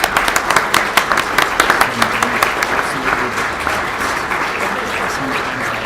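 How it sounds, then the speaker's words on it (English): Loud, close audience applause at a live MLK celebration event, sharp individual claps at the start settling into a sustained dense round, with some crowd murmur and voices underneath. "Let's give her one more round of applause."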